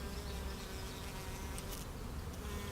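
Soft, steady honeybee buzzing drones continuously at low volume against a quiet outdoor background in Paris, with no voices.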